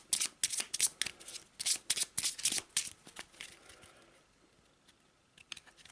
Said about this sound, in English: Again, quick shuffle and a quick cut.